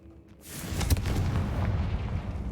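Confringo and Bombarda spell blasts in Hogwarts Legacy, a loud explosive burst rising into a sustained rumbling roar with a sharp crack near the peak and no talking.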